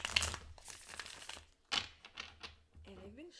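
Tarot cards being shuffled by hand, giving soft crinkling riffles and papery slides at close range, with a few quiet thumps and a brief voice toward the end.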